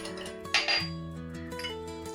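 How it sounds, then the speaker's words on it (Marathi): Whole spices such as cinnamon dropped into a pan on a gas stove for dry roasting, giving a few light clinks and rattles against metal over a quiet kitchen background. "हे काही खडे मसाले आहेत ना, हे आपण आधी पहिले भाजून घेऊया."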